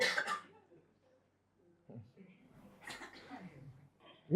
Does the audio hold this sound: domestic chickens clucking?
no